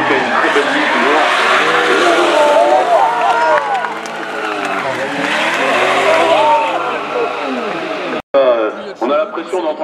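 A loud, revving V8 LSA drift car engine with squealing tires, sliding and accelerating continuously at a drift championship in Calmont, then briefly cutting out near the end before roaring back.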